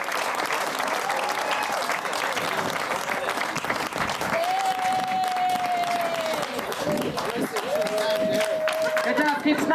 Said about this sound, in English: Big round of applause for these young people playing their hearts out